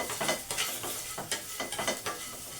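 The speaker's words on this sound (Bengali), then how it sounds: "এটাকে আমি ভালো করে ভেজে নেবো" Jujube pieces with a little turmeric and salt fry in a pan, giving a soft sizzle overlaid with quick rhythmic stirring scrapes, close but fairly quiet.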